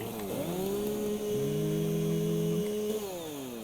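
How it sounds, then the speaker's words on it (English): Chainsaw in the video game Satisfactory, a revving motor whose pitch rises, holds steady, then drops back, heard alone at moderate level. "Chainsaw."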